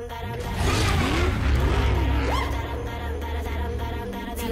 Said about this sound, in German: vielleicht heulende Motoren sind auch in Ordnung